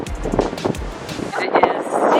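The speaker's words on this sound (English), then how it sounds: "It is super windy" Blustery wind in Lisbon buffets the microphone in heavy rumbling gusts, loud and close, with a voice faintly audible beneath.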